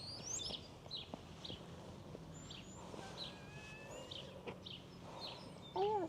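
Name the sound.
birds calling in a quiet village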